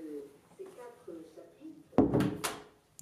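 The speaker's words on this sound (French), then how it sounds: "Je ferme la première porte." A door shuts with a sharp, close thump and rattle after a man's calm speech, followed by a brief second knock as it settles.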